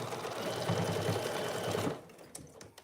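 A sewing machine runs close by in a fast rapid stitching chatter while basting the seam of an oven mitt, then stops abruptly, followed by a few soft handling clicks.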